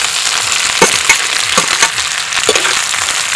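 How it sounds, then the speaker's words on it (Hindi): Long beans tossed into a pan of lightly fried potatoes sizzle steadily and loudly, with a spatula scraping and stirring in irregular clacks and pushes through the hiss. "अब हम डाल देंगे इसमें बोड़ा।"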